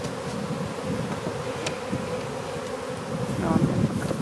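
Honeybees drone steadily around a hive during a transfer from a JC's Bees nuc into a 10-frame hive, a dense close buzz with a few louder passes near the microphone.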